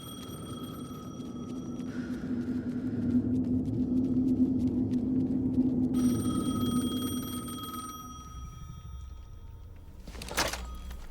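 A telephone rings in the video game Alan Wake 2, repeated electronic trill tones over a low droning rumble, with a brief louder burst near the end and no talking.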